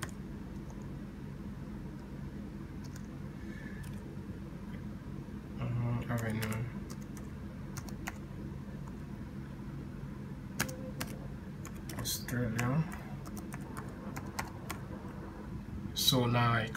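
Keys tapped on a computer keyboard while typing an address into a Microsoft Word document, light scattered clicks in bursts under a steady background hum, with a voice talking over parts of it.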